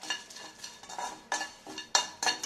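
Crushed garam masala spices are dry roasted in a pan, with a utensil scraping and stirring them in short, irregular strokes and faint light crackling between.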